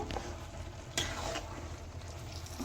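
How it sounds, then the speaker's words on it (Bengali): Red lentil dal with egg tarka is stirred and mixed in a pan, giving a quiet, close sizzle with soft scraping and a sharp utensil tap partway through. "এবার নেড়ে নেব মিক্স করে নেব"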